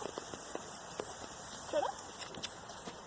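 Horse trotting during a riding lesson, faint rhythmic clip-clop hoofbeats at a distance with a brief louder sound partway through.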